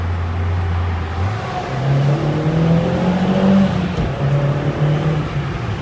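A car of about 200 horsepower, on semi-slick tyres, accelerates hard near a tunnel, its engine note climbing steadily through the gears at close range with a brief shift dip midway, loud and continuous with no talking.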